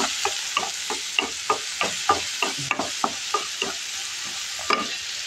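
Spice paste sizzles in a hot pan for a greens and shrimp dish. A spatula stirs it in quick, steady, rhythmic strokes over a loud, continuous frying hiss.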